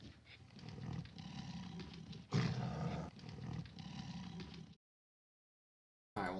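A tiger in the Gabriel Knight point-and-click game roars in several deep, rumbling bursts, loud and close, with a louder peak midway, then cuts to silence before the growl briefly returns.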